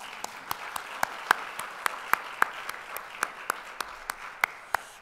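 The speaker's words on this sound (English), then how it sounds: "So I want to give you another round of applause." A small audience applauds at a daytime data event, producing sparse, distinct individual claps in a steady uneven rhythm rather than a dense roar.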